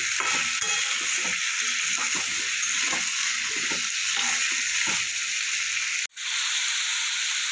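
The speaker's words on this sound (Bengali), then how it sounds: "ভালো করে মিশিয়ে নিতে হবে" Bottle gourd and pea lentil dal being stirred in a pan for a Bengali lau dal, with a steady close sizzle and a scraping stir that pauses briefly near the end.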